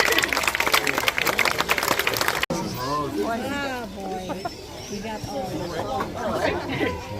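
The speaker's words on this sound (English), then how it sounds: "Give a round of applause, guys." Audience at a crocodile feeding show at Hartley's Crocodile Adventures near Cairns claps for a couple of seconds, a dense burst of applause and crowd noise that cuts off abruptly, followed by a presenter talking over a murmuring crowd.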